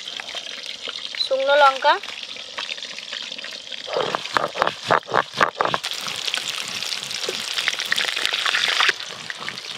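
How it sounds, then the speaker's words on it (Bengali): Catla fish heads frying in hot oil, a dense close sizzle with a run of rhythmic stirring scrapes in the middle, a short voice briefly heard early on. "মাছের মাথাগুলো খুব ভালো করে ভেজে নিয়েছি"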